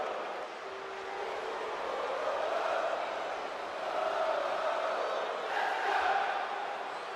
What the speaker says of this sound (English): Oh wow, the crowd, you can hear him.